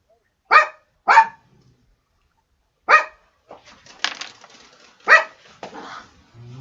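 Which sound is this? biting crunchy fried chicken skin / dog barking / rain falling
dog barking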